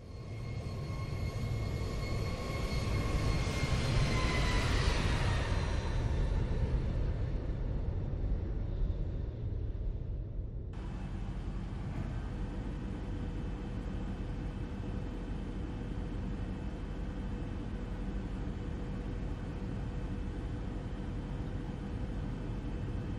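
A Boeing 737 on short final approach makes a steady broadband rush of airflow and engine noise, with a high whine fading partway through before an even, constant roar continues.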